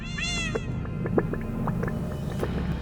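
Ray cats in a Minecraft cave world meow repeatedly, a loud drawn-out mew followed by shorter scattered calls over a steady droning game ambience.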